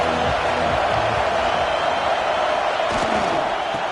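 Steady roar of a stadium crowd cheering during a college football game in NCAA 26, a constant loud wash of voices behind a third-down play, with game sounds and commentary-like speech over it.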